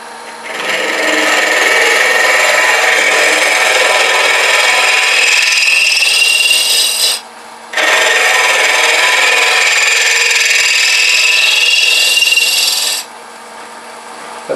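A spindle gouge cuts a wooden box spinning on a lathe, making a loud, steady scraping whir in two long passes with a brief pause between them.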